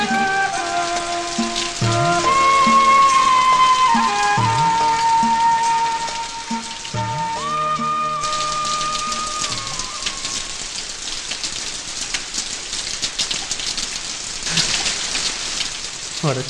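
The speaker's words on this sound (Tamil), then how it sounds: "இந்த மழை ஏன் இப்படி பெய்யுது?" Heavy rain pours down in a steady, dense hiss on surrounding surfaces, loud and continuous throughout, with a few tonal musical notes sounding over it in the first half.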